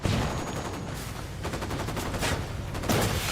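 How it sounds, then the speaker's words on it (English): A flashbang goes off amid rapid gunfire during a Ghost Recon Wildlands firefight, with loud dense bursts of shots over the whole stretch and heavier blasts near the start and end, and no talking. "Lobbing a flashbang"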